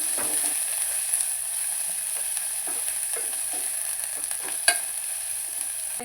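Garlic paste fries in a pan with a steady, close sizzle and hiss, broken by a few soft scrapes of stirring.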